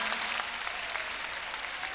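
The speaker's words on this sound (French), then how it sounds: "merci à tout ce public à qui je vais demander de s'applaudir très très fort" A studio audience at a morning TV variety show applauds itself loudly, a dense and steady wall of clapping that lasts the whole short stretch.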